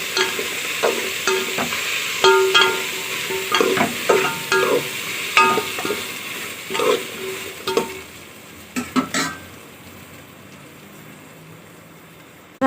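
Drumstick pieces being sautéed in a pan for Thanjavur paruppu urundai kuzhambu, with close, steady frying and sizzling and repeated stirring scrapes that fade out over the last few seconds.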